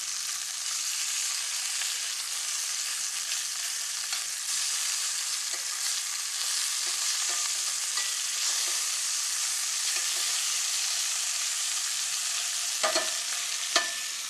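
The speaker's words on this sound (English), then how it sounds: "When I'm browning meat, and I've got lamb in the pan here" Lamb pieces browning in a hot pan give off a steady, bright sizzle and hiss throughout, with occasional soft scrapes and taps of a utensil stirring the meat, including a couple of sharper knocks near the end.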